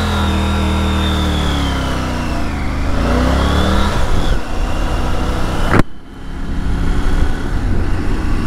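A Triumph Tiger 900 motorcycle rides at night, its engine droning steadily and loud with rising and falling pitch through gear changes, plus a sharp thump partway through.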